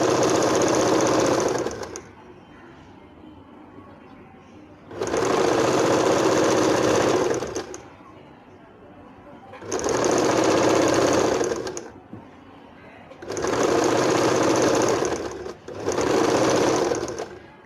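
Sewing machine stitching a salwar leg, running in four loud, steady bursts of about two seconds each, separated by quiet pauses with light handling.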